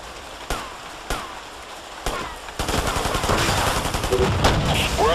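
Gunfire in the Ghost Recon video game: a few isolated loud shots early, then a dense, continuous crackle of automatic fire and bursts building into a sustained firefight, with faint radio-style voices underneath.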